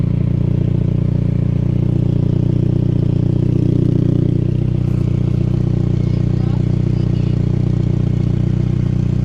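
A Saab convertible engine idles steadily up close with a loud, rough low rumble and a faint ticking chuff from a leaking exhaust.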